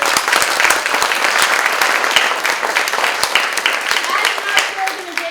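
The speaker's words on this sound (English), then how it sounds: "So a big round of applause for our sponsors." Theater audience applause for sponsors, steady close clapping from a crowd that continues throughout at an even level.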